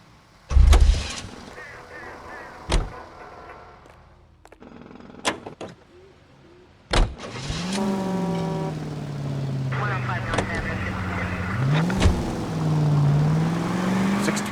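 Car driving in the L.A. Noire video game, with doors thudding shut, then an engine starting and revving, rising and falling as the vehicle pulls away, loud and close, with people talking in between.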